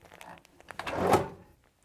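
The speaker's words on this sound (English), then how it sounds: "So right here under the bed, I can pull out a drawer" An under-bed storage drawer in an RV trailer slides open with a short, soft scraping rumble, quiet and close, with no talk.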